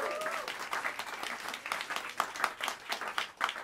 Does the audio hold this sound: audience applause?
yes